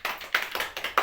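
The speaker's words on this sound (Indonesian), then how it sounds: "Tepuk tangan." Schoolchildren in a classroom clap their hands in a short burst of sharp, distinct claps, about five in quick succession, close and fairly loud, with no talking over them.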